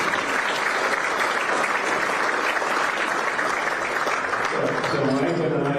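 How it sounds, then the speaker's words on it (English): Sustained audience applause fills a golf-themed award ceremony hall, a dense steady wash of clapping from a large crowd that carries on without a break and swells slightly near the end. "Let's give him a round of applause."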